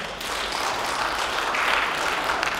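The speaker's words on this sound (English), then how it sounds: "clap your hands" A church congregation claps their hands together during a Sunday morning service, producing a fairly soft, continuous patter of many hands that swells slightly toward the end.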